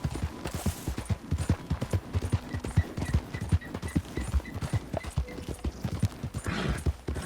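A horse trots along a trail in Red Dead Redemption II, its hooves beating a steady, close clip-clop rhythm throughout, with faint ambient tones behind.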